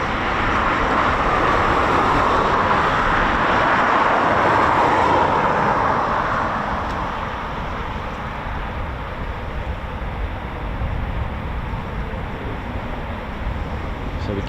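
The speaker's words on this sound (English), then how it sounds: "Typhoon spooling." Eurofighter Typhoon FGR4 jet engines spool up at RAF Coningsby QRA station, a steady broad roar that swells loudest early on, then settles into a lower, sustained rush heard from a distance.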